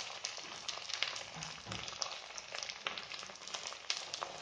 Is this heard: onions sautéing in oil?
yes